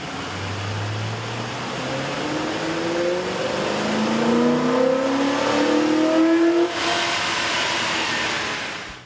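On a dyno, a 2005–2008 Ford F150 5.4L V8 fitted with an AEM cold air intake revs from idle, its engine pitch sweeping upward in a loud, close, rising roar before dropping off sharply near the end.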